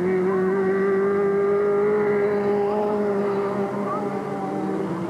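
600 and 250 class race cars run at Delta Speedway in 1996, making a continuous droning engine roar with steady tonal harmonics. The sound is fairly loud but blended together from a distance, with no clear pass-bys.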